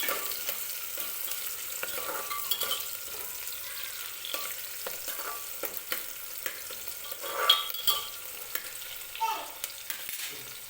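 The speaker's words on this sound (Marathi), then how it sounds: "आणि खडे मसाले जे आपण घेतले होते ते सुद्धा मी टाकून घेणार आहे तेलामध्ये." Garlic and whole spices fry in hot oil for spiced rice, a soft, steady sizzle with frequent scraping stirs and small crackles, close by and with no talking.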